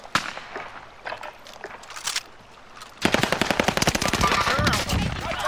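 Rapid automatic gunfire from a Call of Duty Modern Warfare match: quieter scattered shots at first, then loud, dense bursts of machine-gun fire that continue to the end.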